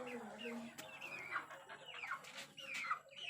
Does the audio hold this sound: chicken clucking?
yes